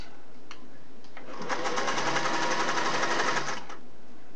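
A Singer Model 401A sewing machine runs for about two seconds of steady, rapid mechanical whirring and clatter, close by, preceded and followed by a few faint clicks.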